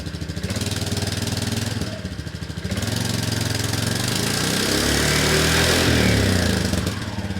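A 1998 Yamaha Majesty scooter engine idles with a new exhaust muffler fitted, a steady, close, throbbing drone that dips briefly and then rises a little as it runs on, with no talk.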